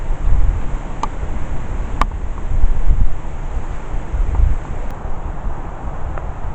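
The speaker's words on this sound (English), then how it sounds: "It's a bit windy." Steady night wind rushes outdoors as a broad, continuous roar with gusts swelling and easing, accompanied by a constant high insect-like hum and a few faint clicks.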